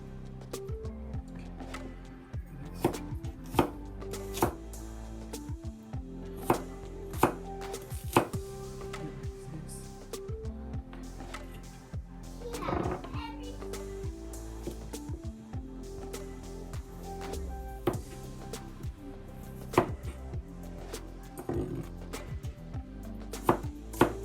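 A knife chops garlic and ginger on a cutting board while Big Plate Chicken is prepared: close, crisp taps come in irregular bursts and single strokes over a quiet kitchen background, with no talking.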